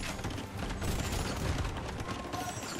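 Gunpowder cannons fire repeatedly in Age of Empires II, a dense, continuous battle din of booming blasts and mechanical clatter at moderate distance, without speech.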